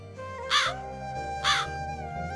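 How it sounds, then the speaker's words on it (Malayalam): A crow caws twice, evenly spaced, sharp and close, over a soft steady musical background. "ഇനിയിപ്പം കാക്ക കരയും."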